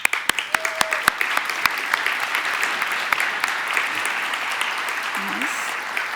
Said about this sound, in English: I'll give them a round of applause, and maybe you'll join me to celebrating their efforts